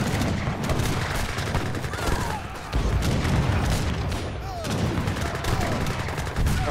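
Gunfire and machine-gun bursts from a battle in the Age of Empires III video game, with Spanish artillery and mounted gunmen, a dense continuous clatter of shots and booms throughout, loud and busy with no clear pauses.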